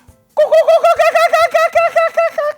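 A voice imitating a kookaburra's call: a rapid, rhythmic series of hooting, laughing notes, close and loud, for about two seconds.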